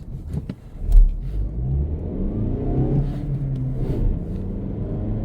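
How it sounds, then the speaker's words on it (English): A Mazda 3 with a six-speed manual gearbox accelerates from low speed, its engine rumbling loud and close in a steady, rising drone heard from inside the car, with no talking. "just a regular type of acceleration here from low speed"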